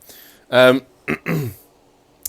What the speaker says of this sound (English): Sorry, had to cough there.